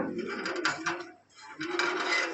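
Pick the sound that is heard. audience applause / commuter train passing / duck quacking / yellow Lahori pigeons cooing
yellow Lahori pigeons cooing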